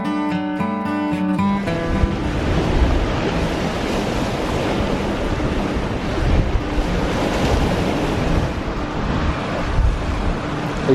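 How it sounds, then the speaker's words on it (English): Waves breaking and washing along the Lake Superior shore near Copper Harbor, a steady loud surf roar with wind buffeting the microphone throughout and no voices. "The waves getting you, Thor?"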